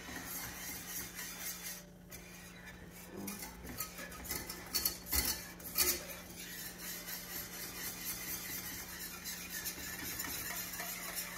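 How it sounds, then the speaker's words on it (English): A utensil scrapes and clinks against the bottom of a pan while sausage gravy cooks. The scraping is faint and uneven, with a few louder metallic scrapes near the middle. "you want to be sure you're scraping the bottom of your pan good, because you don't want to leave anything in the pan"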